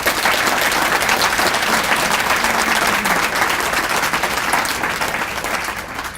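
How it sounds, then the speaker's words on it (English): Sustained applause from an audience at a city's State of the City address, honoring the school board; steady dense clapping with crowd texture that holds loud throughout, easing slightly at the end. "I want to ask you to please thank them with a round of applause"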